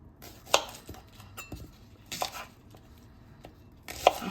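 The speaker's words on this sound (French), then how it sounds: "Et là, je vais couper mon oignon." Knife chopping an onion on a board, a few sharp, sparse cuts close by at irregular intervals, quiet otherwise with light clinks and no talking.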